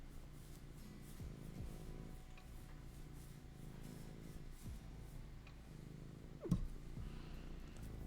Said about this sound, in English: This is the cutest cat